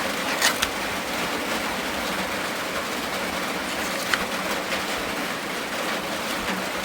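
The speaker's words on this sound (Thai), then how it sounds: "ยินแต่เสียงฝน" Steady rain pouring outdoors, a dense continuous hiss with a few sharper patters of drops, fairly close and alone with no voices.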